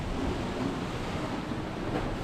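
Heavy surf on a wild Scottish shoreline, a continuous close roar of breaking water with gusting wind rumbling across the mic, loud and unbroken throughout.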